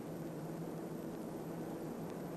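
C-47 transport planes arrive overhead, their engines a steady, broad droning roar that fills the whole clip without letting up, with no voices.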